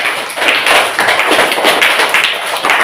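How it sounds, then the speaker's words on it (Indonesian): A classroom group claps for a team of students, a burst of quick, dense hand claps carrying steadily for a few seconds, near and fairly loud with a slightly thumping, tapping texture. "Tepuk tangan untuk kelompok 2"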